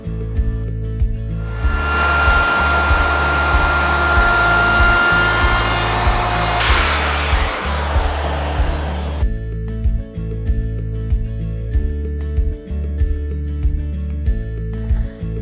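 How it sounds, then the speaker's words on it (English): A handheld router cuts an edge profile along the top edge of a workpiece held in quick clamps, a loud steady whine with a rushing cutting roar for several seconds before it spins down, over constant low mechanical hum. "Now I can route an edge profile on the top edge, which is a tricky profile to route."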